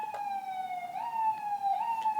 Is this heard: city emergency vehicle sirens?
yes